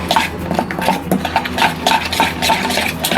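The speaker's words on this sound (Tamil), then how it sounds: "கொஞ்சோண்டு தண்ணி சேர்த்து நல்லா பேஸ்ட் மாதிரி மிக்ஸ் பண்ணிக்கலாம்" A spoon scrapes and clinks against a bowl while a thick, wet spice paste of masala, salt and water is stirred for fish fry, steady close-up mixing with soft squelches.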